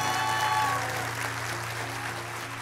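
An audience at a motivational talk claps in a steady wash of applause, fading slightly over a couple of seconds beneath a faint electrical hum.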